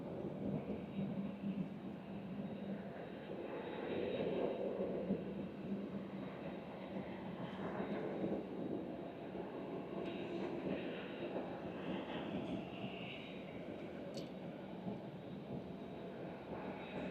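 An ITA Airways airliner taxis toward runway 24 left, its jet engines giving a steady, broad rumbling whine that holds at a constant level, fairly near, with no voices over it.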